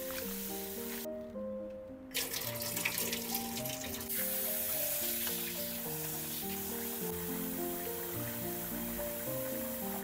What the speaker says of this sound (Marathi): आणि जरा पहिल्या पाण्यातनं धुवून घ्यायचा आहे तांदूळ.